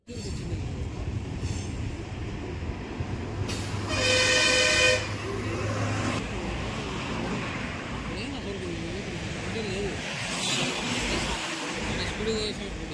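A train horn sounds for a moment beside a highway amid steady rumbling traffic noise, with a vehicle passing and faint voices in the background.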